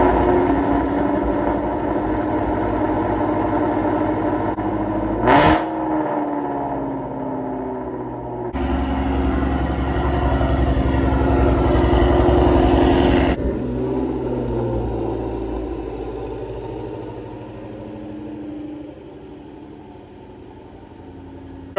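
A new S650-generation Ford Mustang Shelby GT500 fires up from cold with a sharp starter burst, then settles into a deep, rumbling idle that swells with a heavy rev before easing back to a steady, quieter idle.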